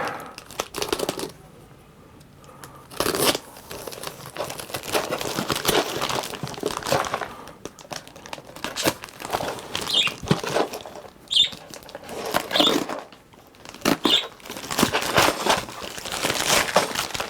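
Rustling and crinkling of UPS plastic packaging as a cube puzzle package is opened, with irregular bursts of tearing and crumpling handled close to the mic, separated by brief quieter pauses.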